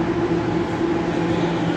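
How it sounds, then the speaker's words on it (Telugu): Purple line Namma Metro train at a Bangalore station, heard as a steady, loud rumbling hum with a constant tone and no break, and no voices. "సో ట్రైన్ వచ్చింది చూడండి పర్పుల్ కలర్లో,"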